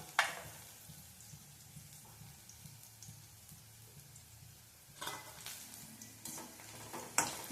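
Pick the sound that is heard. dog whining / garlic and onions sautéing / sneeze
garlic and onions sautéing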